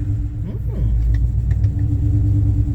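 A 1997 Ford Mustang Cobra with a swapped-in Coyote V8 idles with a low steady rumble up close, a few faint clicks and rattles on top, someone talking briefly.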